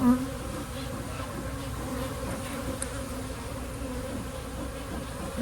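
Honeybees hum in a dense, continuous drone from an opened, boosted hive during an inspection, close and steady throughout without voices.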